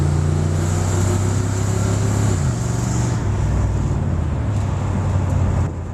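A 1969 Mercury Cyclone Spoiler II muscle car idles steadily, its engine a low, even rumble that holds constant throughout at close range.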